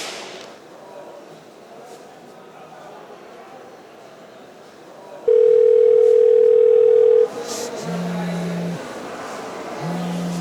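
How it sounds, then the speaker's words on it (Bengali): A loud, steady telephone tone holds for about two seconds, then short repeated beeps follow over a low background murmur. "হাবু ফোন দিছে রে"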